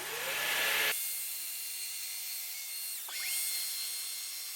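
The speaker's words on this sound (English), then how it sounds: "We'll use the flush cut trim bit on the router one last time to cut off the additional depth" A router fitted with a flush cut trim bit cuts into a black walnut slab, giving a loud high whine that drops in pitch under load and then spins back up, with no voices.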